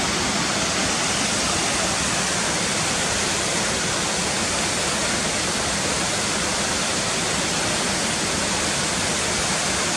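Cotter Force waterfall running high after days of heavy rain, a constant loud broadband rush of falling water with no pauses or voices.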